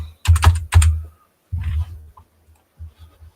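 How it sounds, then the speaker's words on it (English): Typing on a computer keyboard, a few quick close clusters of key clacks followed by scattered single taps, with no talk. "Let's type that in."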